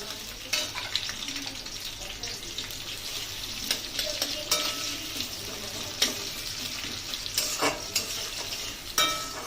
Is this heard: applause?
no